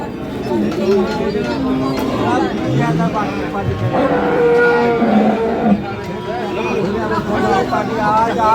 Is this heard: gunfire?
no